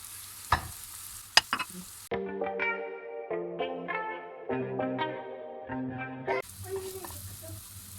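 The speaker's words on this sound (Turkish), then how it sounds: "yağımızı üzerine kadayıfımızı ekliyoruz güzelce" Shredded kadayif pastry sizzles as it hits hot butter in a pan, a loud hissing fry with a few sharp knocks at the start, broken by a stretch of music before the sizzle returns.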